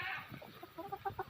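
A young rooster (stag) clucks in a series of short, close calls that grow louder and more rhythmic toward the end, with low background noise and no talk.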